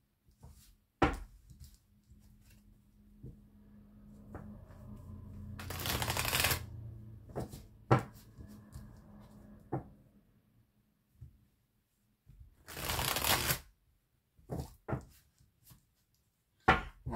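Oracle cards for a black-cat guidance reading being shuffled in several quick riffling bursts, separated by pauses and soft taps, close and moderately loud with no talk.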